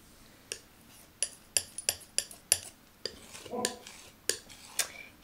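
Large palette knife scraping and tapping as it mixes blue oil or acrylic paint on a palette, a series of sharp metallic clicks and scrapes at close range, irregular in rhythm, with no talking.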